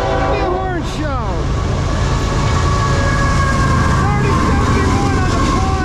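A CSX freight locomotive horn sounds on a manifest train passing through Middlesex, New Jersey, giving a loud, close, sustained blast with a falling Doppler pitch, then fading under steady heavy rolling rumble of the freight cars.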